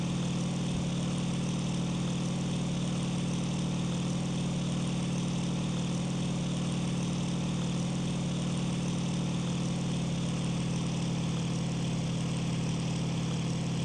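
Steady drone of a Bf 109 F-2 fighter's engine idling or running in the 2001 flight sim IL-2 Sturmovik, a constant low hum with no change in pitch throughout, no voices over it.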